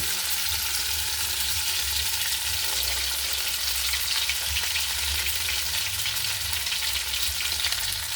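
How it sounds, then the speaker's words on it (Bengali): Crab paste frying in hot oil with spice paste in a pan, a dense steady sizzle throughout, close and fairly loud with no voices. "এই কাঁকড়ার পেস্টটা আমি ঢেলে দিলাম তেল"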